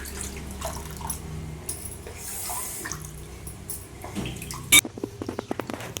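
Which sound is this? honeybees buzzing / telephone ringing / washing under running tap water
washing under running tap water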